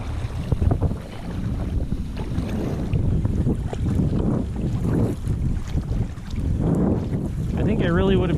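Steady wind rushing and buffeting across the microphone while paddling a WS Pungo 120 recreational kayak into a headwind on open water, loud and continuous, with faint water sounds beneath.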